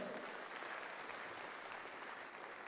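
Steady audience applause at a national arts awards ceremony, a continuous even wash of clapping from a large crowd with no pauses, filling the short stretch alone.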